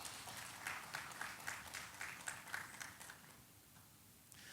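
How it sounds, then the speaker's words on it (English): Applause from a conference audience rises in uneven bursts of clapping, then thins and fades toward the end, the claps fairly faint and scattered. "Please, another round of applause for her"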